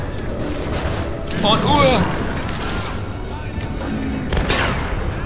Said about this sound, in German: Vielleicht können wir nochmal die Waffe ein bisschen benutzen hier. Zum Schießen.